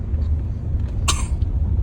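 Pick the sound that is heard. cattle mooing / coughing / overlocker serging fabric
coughing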